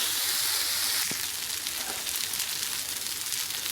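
Rice sautés with tomato in a pan for a stuffed pepper filling, giving a steady close hiss and sizzle with faint stirring underneath and no talk.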